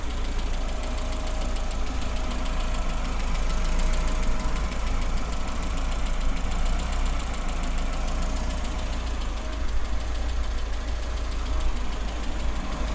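A Metro car engine, run for the first time in years, idles steadily with a low rumble and faint knocking, alternator draw making it want to cut out, with no voices present.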